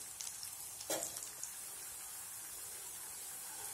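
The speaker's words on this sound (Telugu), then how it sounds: "ఇట్లా 2 వైపులా తిప్పుకుంటూ బాగా ఫ్రై చేసుకుందాము పొటాటాస్ని." Potatoes frying in a pan for an egg-and-potato breakfast, a steady soft sizzle throughout with a brief louder crackle or stir near the start, fairly quiet and close.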